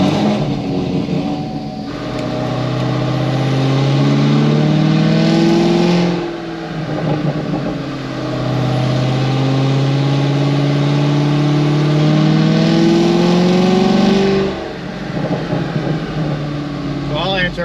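An E85-fuelled LT1 Camaro V8 with upgraded heads, cam and MSD ignition fires up on a dyno and revs in loud, repeated sweeps, dropping back to a rough idle between pulls.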